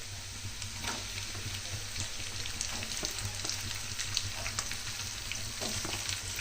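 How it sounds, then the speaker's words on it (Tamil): Crushed whole spices such as cinnamon, cloves and star anise fry with onion and green chilli in oil in a kadai for a Chettinad-style chicken gravy, giving a steady close sizzle with faint crackles and occasional stirring. "இப்போ இதை நல்லா வணக்கிறேன் எண்ணெயில்."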